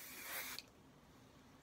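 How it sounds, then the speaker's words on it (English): Working spray misted onto styled hair during a brush-out of a wet set, a single close hiss of about half a second, then quiet with a brief faint puff near the end. "Spray it with the working spray."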